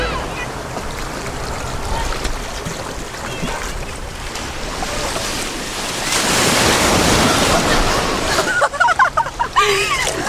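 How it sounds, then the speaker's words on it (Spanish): Large, powerful ocean waves crashing on a beach in Chile, a loud continuous roar of surf with heavy wind buffeting the microphone, swelling midway into a bigger crash before choppy gusts. "todas las olas son, muchachos, son enormes"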